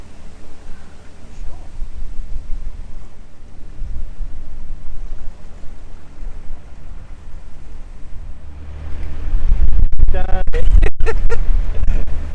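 Gale-force wind batters a narrowboat near the Anderton Boat Lift, roaring and buffeting steadily, then surging into heavy, clattering gusts near the end, with a voice talking over it.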